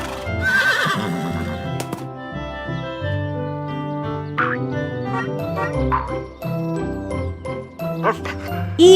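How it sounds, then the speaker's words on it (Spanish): A horse whinnies loudly at the start, followed by clip-clop hoofbeats and springy cartoon effects, all set against a cheerful jingling children's tune. "un caballo."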